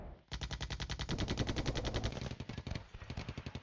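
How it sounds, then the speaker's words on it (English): Mortars firing in the Flashpoint Campaigns Cold War wargame, heard as a rapid, evenly spaced string of sharp reports rolling on for several seconds with a dense, rattling rhythm, fairly faint and without voices. "The mortars are firing on that."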